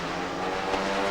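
Drag racing car from the 1994 NHRA Sportsman Challenge in Houston, Texas, roaring down the far lane at around 233 mph; a steady, loud, distant engine roar with broadband noise and no pause.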